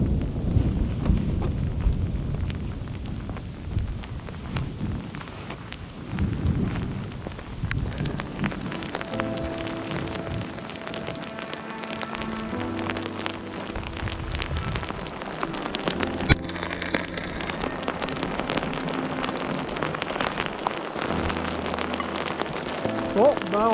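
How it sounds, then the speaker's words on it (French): Hail falls during a wild high-route trek across the Pyrenees, a dense, continuous pelting patter that runs the whole time. Some lower tonal sounds surface in the second half. "Là, ce qui tombe, c'est de la grêle."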